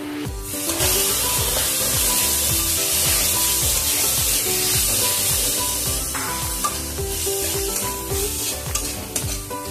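Chicken mince going into a pan of frying spice paste for a cabbage dish, a loud close hiss and sizzle with rapid rhythmic stirring scrapes throughout, no speech.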